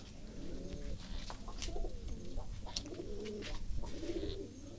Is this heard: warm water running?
no